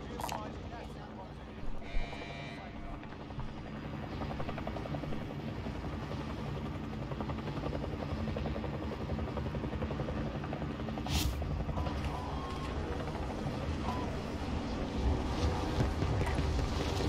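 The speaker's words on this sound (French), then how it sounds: "Je vais aller prendre l'hélico" Helicopter rotor drone in Call of Duty: Warzone, a steady broadband thrum running the whole time, loud and continuous with game effects layered over it.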